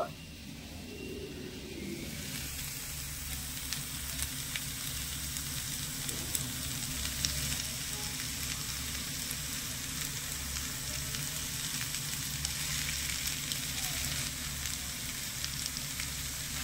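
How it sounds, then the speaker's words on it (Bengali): Cabbage and mashed boiled potato stirred and fried in a pan, a steady close sizzle with light scraping of the spoon, over a low rumbling hum, with no talking. "ভালো করে নেড়েচেড়ে মিশিয়ে নেব আর আলুটা বাঁধাকপির সাথে মিশিয়ে আলুটাও একটু ভেজে নেব"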